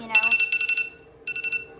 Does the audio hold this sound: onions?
no